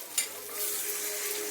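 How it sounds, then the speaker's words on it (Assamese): Water poured into a hot pan of egg curry, a short splash followed by a soft, continuous sizzle and bubbling close by, no voices. "ইয়াতে মই এতিয়া পানী এড কৰিম"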